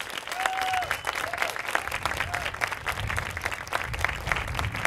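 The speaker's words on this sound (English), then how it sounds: "We want to give them a round of applause and appreciation for opening up their campus for us" A crowd at an Austin rally gives sustained applause for the campus hosts, dense steady clapping with a few whistles, loud and continuous throughout.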